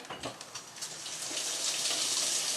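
Warm water running from a kitchen tap for homemade bread, a steady rushing hiss that starts with a few splashy bursts and settles into a constant close flow, heard alone.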